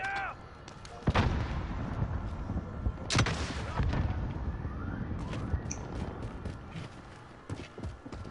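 A grenade blast in a first-person shooter video game: booming bursts at the start and midway over constant gunfire and battle noise, with no clear talk.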